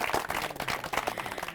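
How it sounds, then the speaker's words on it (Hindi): Village audience at a rural farmers' gathering in Udaipur, Rajasthan, clapping for visiting experts: brief, dense, fairly close applause of many hands. "इनके लिए भी जोरदार तालियां हो जाएं"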